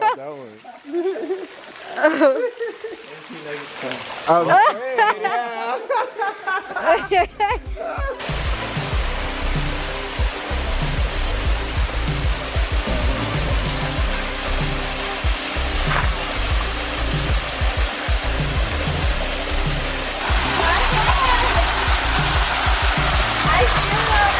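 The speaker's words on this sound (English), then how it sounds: "There is a smaller waterfall, and in the left side here, the bigger one." Two waterfalls in Ubud, Bali, a small one and a bigger one, roaring as a loud, steady broadband rush of falling water that fills the scene after a few seconds of people talking.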